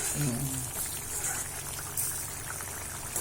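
A thick tomato masala sauce for vegetable keema bubbling and simmering steadily in a pan, with a voice speaking briefly in Tamil at the start over the constant bubbling.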